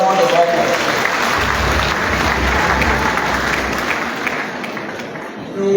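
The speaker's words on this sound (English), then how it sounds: "Please give yourselves a round of applause" Graduates at a Baze University convocation in Abuja clap for themselves, a broad, even wash of applause from a large crowd that continues throughout.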